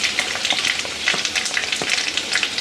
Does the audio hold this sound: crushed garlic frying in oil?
yes